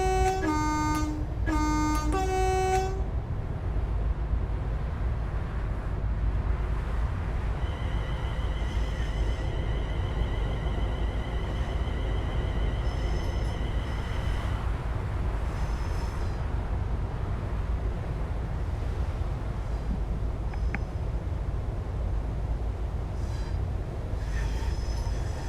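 A Class 380 electric multiple unit in Train Sim World 4 on the Cathcart Circle line sounds a short two-tone horn blast at the start, then runs steadily with a continuous rumble and occasional high wheel whines and squeals.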